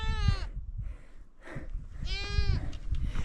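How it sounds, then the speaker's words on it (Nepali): Goats bleat in a cold mountain setting in Manang, Nepal, with two clear wavering calls a couple of seconds apart over low rustling background noise. "बाख्राहरू देख्यो बल्ल"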